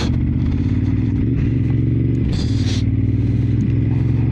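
A Ducati Monster 950 with an aftermarket Turbinoni exhaust rumbles loud and close, a dense low engine burble with some clatter and a brief rise in revs midway.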